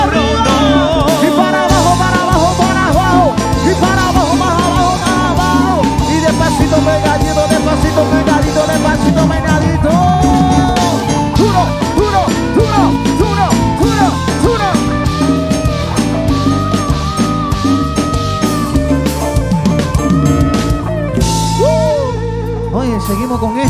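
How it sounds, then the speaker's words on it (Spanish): An electric guitar plays with a live band at a concert, winding lead lines over a pounding bass and drum groove, loud and continuous, with a voice heard faintly in the mix. "Y esa guitarra como suena"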